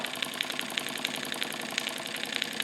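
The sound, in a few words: model steam engine running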